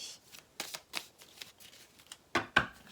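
Tarot cards are shuffled by hand, a run of quick close riffling bursts with crisp papery snaps, ending in two louder shuffles.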